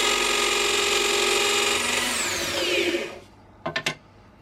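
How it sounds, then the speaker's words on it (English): A power drill bores a pilot hole through a boat hull for a Jabsco sea toilet inlet, a loud steady whine that winds down, followed by a few short clicking ratchet bursts. "I started by drilling the hole for the inlet, so first drilling a pilot hole."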